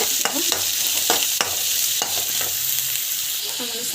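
Green chillies sizzle and fry in a pan while being stirred, with steady close frying hiss and intermittent scraping stirs of a utensil, no talk.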